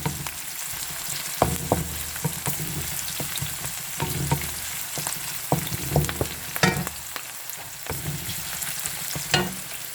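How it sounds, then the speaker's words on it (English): Onions sautéing in a pan for beef pochero, with a steady close sizzle broken by frequent clacks and scrapes of a utensil stirring throughout; no voices. "Saute your onions or sweat it out"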